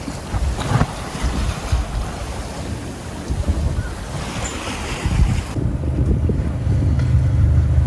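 A sailboat under way on the open ocean at about 4.7 knots, with steady rushing waves against the hull and buffeting wind noise on the microphone throughout, loud and close, no voices.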